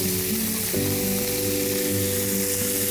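Blanched broccoli heats in a pan with a loud, continuous sizzle. The bright frying hiss sits over a steady low tonal hum, with no speech.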